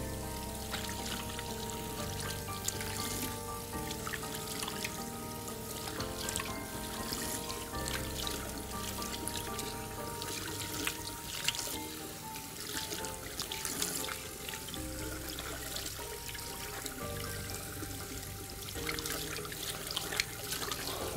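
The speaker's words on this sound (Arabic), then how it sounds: "يواصل صب الماء" Water runs steadily from a tap while hands are washed with soap, a continuous close splashing and trickling flow that lasts throughout without pause and with no voices.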